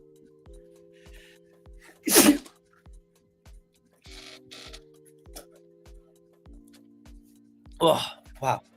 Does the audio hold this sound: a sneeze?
yes